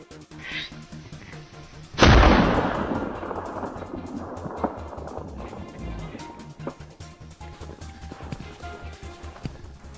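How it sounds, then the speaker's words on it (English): A single loud rifle shot rings out during a wild boar hunt in snow, with a long rolling echo that fades over several seconds, followed by faint scattered thuds and rustling. "The sudden gunshot sent shockwaves through the herd, causing them to scatter in panic"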